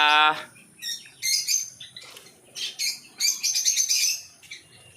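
Many foreign cage birds in a bird shop chirp and tweet in repeated bursts, fairly close and lively, with brief pauses between calls and no talk.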